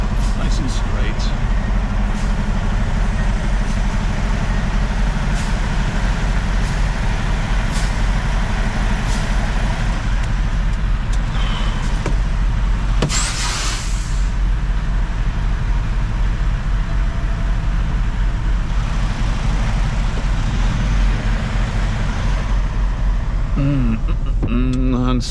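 Steady, loud engine and road rumble from a vehicle cruising on a highway, continuous throughout with a brief hiss partway through and no talking.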